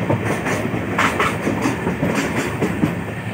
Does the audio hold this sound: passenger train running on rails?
yes